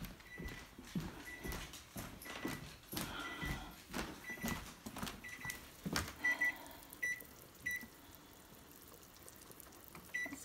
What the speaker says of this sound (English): the timer's going off for my soup